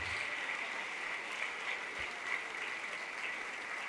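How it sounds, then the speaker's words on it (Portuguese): Church congregation applauding during worship, a continuous distant-sounding wash of many hands clapping, even and steady with no talk over it. "vamos aplaudir mais ao nome de Jesus"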